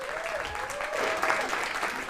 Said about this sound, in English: One more round of applause for Greta.